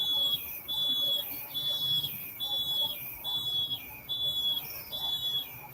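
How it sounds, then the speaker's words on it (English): A bird in Colombia repeats a high, thin whistled mating call again and again at a steady rhythm, each note dropping slightly at the end, over quiet outdoor background. "I think we have some mating calls going on here."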